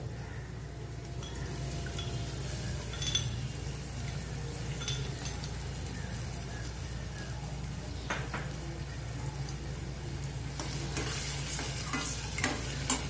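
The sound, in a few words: tomato puree added to frying onions and stirred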